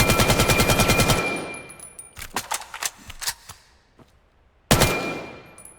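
Automatic rifle fire with recoil in the shooter game Vail: a rapid burst of close, loud shots, then a few spaced single shots and clicks, a quiet gap, and one final sharp shot.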